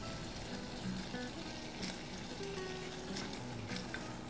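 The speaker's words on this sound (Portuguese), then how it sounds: "Nós vamos deixar ela fritando, para ficar bem bonitinha." Food fries in a pan with a steady, fairly quiet sizzle and occasional crackles, continuous throughout with no talking.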